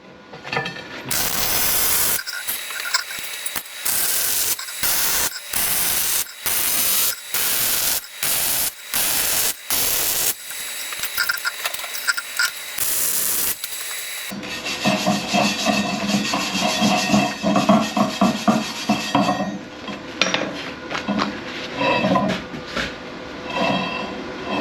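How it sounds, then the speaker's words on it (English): Arc welding on the flipped side of a steel piece for a cement silo light mount produces loud, harsh crackling bursts that start and stop repeatedly, then a longer continuous sputtering buzz. "I'm gonna flip it over and weld the other side"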